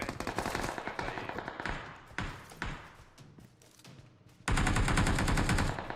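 Gunfire in a battle royale video game: bursts of rapid automatic shots and scattered single cracks, fading to sparse reports before a loud sustained burst breaks out close by.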